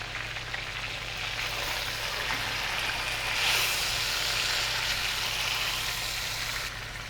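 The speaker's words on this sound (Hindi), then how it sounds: "मसाला यहाँ पर हमारा भून रहा है, 5 मिनट हो गए हैं।" Chicken pieces and masala frying in a pan for Murgh Musalam, a steady soft sizzle and crackle running throughout at low volume with no voices.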